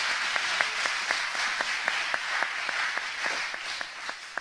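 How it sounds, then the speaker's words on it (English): Applause rises from a congregation at a homegoing service, a sustained wash of hand clapping with sharper individual claps standing out at a steady rhythm, with no one talking over it. "Let's give the Lord a hand clap of praise for his kindness"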